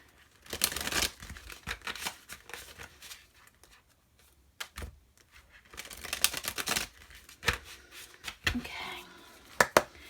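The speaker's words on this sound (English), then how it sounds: "Okay, shuffle one more time." Tarot cards being shuffled by hand in bursts of crisp riffling and flicking, with quiet pauses between, close to the mic and without speech.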